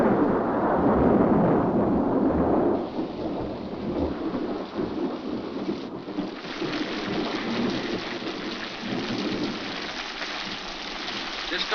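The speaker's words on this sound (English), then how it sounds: "This storm will clear up for an hour" A heavy rainstorm hisses steadily with deep rumbles of thunder rolling underneath, a dense wash of downpour that stays loud throughout with no voices.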